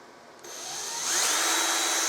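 A power drill fitted with a Forstner bit spins up at high speed, its whine rising and then holding steady and loud, close by, with no talking.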